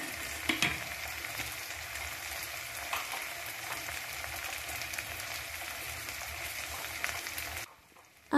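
Ginger, cumin and dry chilli pastes fry in a hot pan for a Bengali hichor dish, giving a steady close sizzle with light crackles throughout before cutting off near the end.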